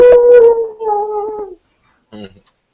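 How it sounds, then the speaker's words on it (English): A gleeful howl sound effect gives a wavering, pitched canine-like cry across a second and a half. After a short silence comes a brief yip-like sound. "you hear a gleeful howl"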